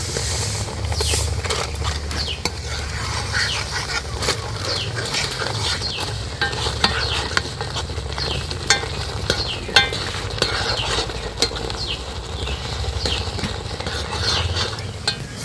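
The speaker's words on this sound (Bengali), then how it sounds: "সুজিটা এইভাবে নাড়াচাড়া করে কিন্তু খুব ভালোভাবে সেদ্ধ করে নিয়েছি।" Semolina cooked in water in a pan is stirred steadily, and a spoon scrapes and clinks against the pan over a low bubbling sizzle. The stirring is close and continuous, with no talking.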